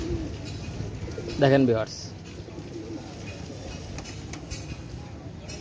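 A pair of flying-trained pigeons gives a brief, close, throaty coo that rises over the room, while someone talks before and after the call.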